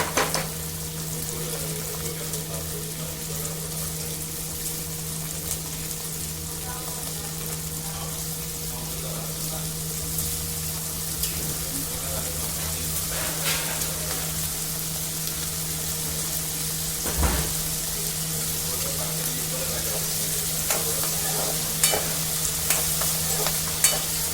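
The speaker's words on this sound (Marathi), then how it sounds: "यामध्ये आपण हिरवी मिरचीचे तुकडे टाकणार आहोत। हे तेलामध्ये छान भाजून घ्यायचं।" Green chili pieces fry in hot oil for a vegetable pulao, giving a continuous close sizzle with occasional stirring scrapes and small pops, without any speech.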